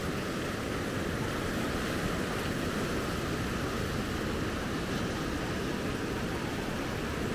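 A steady roar of ocean surf at the Maspalomas lighthouse, Gran Canaria, washes continuously, broad and hissing like waves breaking along a shore, with some wind and no voices.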